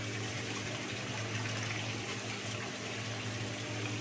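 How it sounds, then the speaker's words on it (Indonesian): Water mixed with vitamin B1 pours steadily over potted cacti, a continuous even hiss and gush at moderate level with no break and no talking. "Ayo kita siram kaktusnya."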